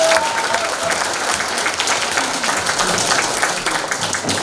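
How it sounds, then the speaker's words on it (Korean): A forum audience applauds loudly and without a break, many hands clapping together in a dense, close roar. "다시 한번 박수 부탁드립니다"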